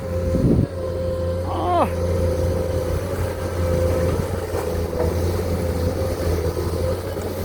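A 21-ton six-cylinder excavator engine drones steadily with a low, rumbling roar and a sustained whining tone, close by, with a brief voice early on.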